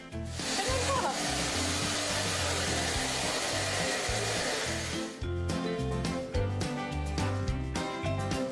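A vacuum cleaner runs loud and steady throughout, its broadband roar dominating and briefly dipping partway through, with a dog nearby in a home setting.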